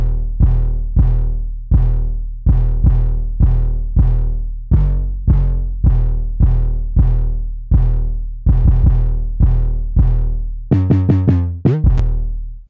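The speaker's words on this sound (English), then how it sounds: "This is the 808." A deep, booming 808 bass drum plays a steady pattern of long sustained hits, with a quick gliding flourish of pitched notes near the end; no voices.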